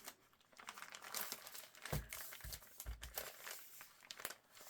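Paper card for a handmade journal signature is trimmed, with soft, close crinkling, sliding and cutting sounds along with a few low thumps, all fairly quiet and without speech.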